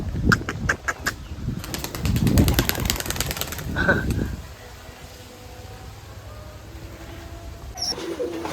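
Dobaj pigeons coo and flutter nearby: a busy stretch of wing flapping and low cooing, then quieter cooing trailing off into calm background, with faint bird calls at the end.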